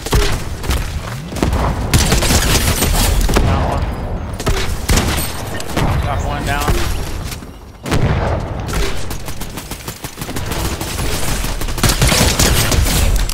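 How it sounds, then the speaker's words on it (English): Dense, loud gunfire from the video game Fortnite rattles almost without pause, with rapid bursts and booming shots layered over one another and a brief lull midway, while a player talks over the action. "I'm getting shot from every which way right now"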